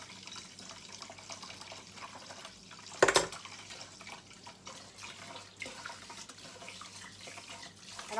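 Rice is rinsed under running water. A soft, steady stream of tap water flows throughout, and a single brief splash or clatter of grains and water stands out partway through.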